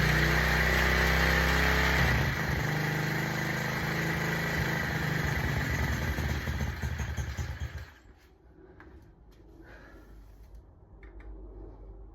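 An SSR110 pit bike engine runs with the choke on, a loud close putter for about eight seconds before it drops off to a faint idle-like rumble.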